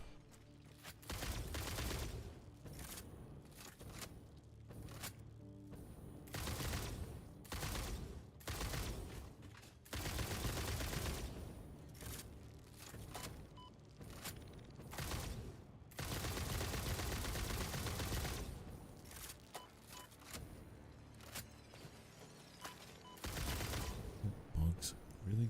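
Rifle gunfire in the factory-building game Satisfactory, shot in repeated loud bursts and sustained volleys across the scene, with short quiet gaps between them and game sounds filling in.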